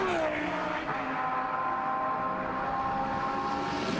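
GT1 race cars at a circuit in Germany, powering up into the Schumacher S: a loud, sustained engine roar with a rising pitch, steady and close throughout the whole stretch.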